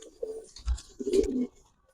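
A racing pigeon coos close by, two soft throaty coos in under two seconds with near silence between and after.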